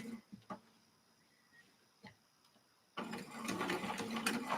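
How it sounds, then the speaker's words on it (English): After a few quiet clicks and taps, a sewing machine starts up and stitches steadily through many layers of fabric, its motor whirring with a rhythmic needle chatter close by. "sewing this, it goes just a little bit slower because you have a lot of layers of fabric"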